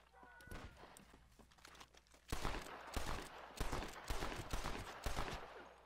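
Gunfire in the Western video game Red Dead Redemption, shotgun and repeated shots in bursts, quiet and scattered at first, then a denser volley of loud cracks, with rustling and footsteps between.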